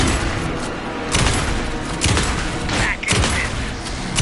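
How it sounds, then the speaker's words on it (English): Gunfire during a tense Alan Wake 2 video game fight, rapid repeated shots and booming blasts in a dense, loud mix, with brief game dialogue under the noise. "Anderson, pin him down with gunfire for me to get the light on."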